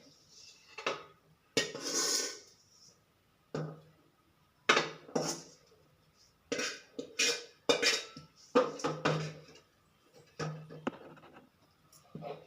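Fried onion, garlic, mint and tomato scraped from a pan into a mixer jar with a spoon: intermittent close metallic clinks and scrapes in short bursts, separated by quiet pauses, with no talking.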